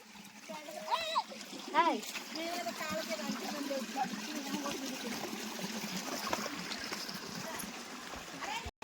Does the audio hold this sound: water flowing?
yes